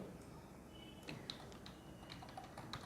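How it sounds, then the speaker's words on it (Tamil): Keys on a computer keyboard tapped in an irregular run of light clicks, with text being typed into Adobe InDesign, close up over a steady background hiss. "தமிழ்நாடுன்னு டைப் பண்ணுறேன்"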